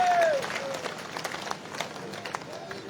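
An audience at an all-India poetry gathering in Etawah applauds, with fairly steady crowd clapping throughout and a short voice at the very start.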